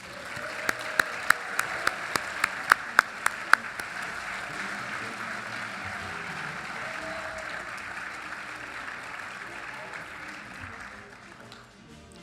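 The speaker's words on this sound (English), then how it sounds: "Let's give all of our contestants a round of applause." Audience applauding contestants at a Voice of Democracy awards ceremony, steady crowd clapping sustained for about twelve seconds with a few sharp individual claps early on, fading slightly at the end.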